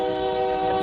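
A train horn sounds at a railway station, a sustained, loud, steady multi-tone blast holding for the whole moment with no pauses.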